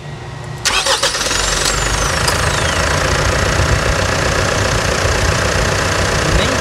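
2021 Mitsubishi Triton pickup with the new 2.4 engine cranks briefly and fires up, then settles straight into a steady, loud, close diesel-style idle with a faint knocking rhythm that runs to the end.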